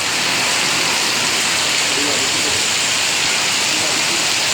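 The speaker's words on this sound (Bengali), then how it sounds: "যে পরিমাণ বৃষ্টি হচ্ছে" Heavy rain falling steadily on a Bangladesh village, a dense, even hiss that stays loud and close throughout with no breaks.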